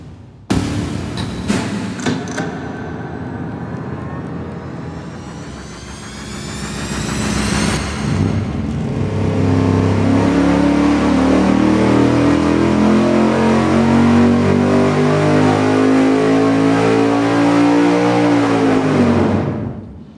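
An engine with a swapped 4 and 7 firing order is revved on a dyno: several short blips, then a loud, rising wide-open pull that holds near the top before cutting off abruptly.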